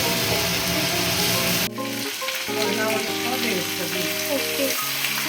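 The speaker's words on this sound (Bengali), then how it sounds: "এখন আলু দিয়ে চিকেন দিয়ে সব দিয়ে একদম প্রপারলি এইভাবে কষানো হবে" Chicken and potatoes sautéed in a pan for a biryani and chicken stew, giving a steady loud sizzle with stirring scrapes and a short break partway through, alongside background music.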